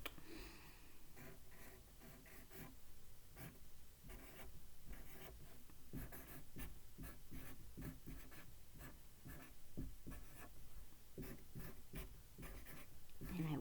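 Marker writing on paper at a storytime session, with a steady run of scratchy, squeaking strokes under a quiet voice that talks throughout.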